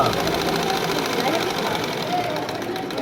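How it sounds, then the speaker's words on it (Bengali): A sewing machine runs continuously, stitching a zipper onto school trousers, its fast, even mechanical whir steady and close throughout the short stretch. "এবারে চেনটা সেলাই করে চলবেন"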